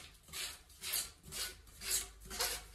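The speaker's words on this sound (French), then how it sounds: "Puis, je le ponce aussi seulement d'un côté" Hand sanding of a joint in a shipping-container house build, with five steady back-and-forth rasping strokes, close and fairly quiet, no talking.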